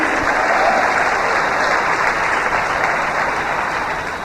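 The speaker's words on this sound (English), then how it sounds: "come on, clap your hands" An audience at a public speaking event, probably a sermon, claps hands in sustained, loud, dense applause that holds steady throughout and fades only slightly toward the end, with no speech over it.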